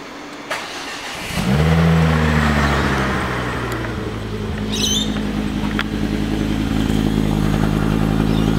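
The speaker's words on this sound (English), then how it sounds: "let's just get this cold start going" A car with a newly installed custom intake cold-starts after a brief crank, then settles into a loud, steady idle close by, with a faint click or chirp midway.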